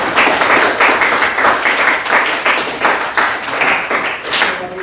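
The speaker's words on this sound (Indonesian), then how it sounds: "Tepuk tangan buat kalian" A class of schoolchildren claps their hands together in a loud, rhythmic unison beat, regular pulses repeating about twice a second close by, with no talking over it.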